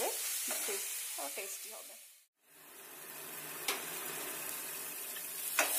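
Potatoes and spices fry on a low flame for a chicken curry, giving a continuous close sizzle with soft stirring scrapes. A voice speaks briefly early on, and the sound cuts out for a moment midway.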